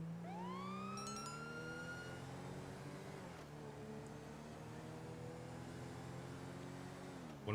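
A police car siren in the GTA Online video game wails in a rising sweep and then holds a steady tone over a low engine drone, fairly quiet and continuous, with no talking.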